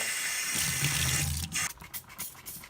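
Water runs from a kitchen sink faucet in a steady, close rush for over a second, then breaks into uneven splashes and gurgles as the flow is interrupted.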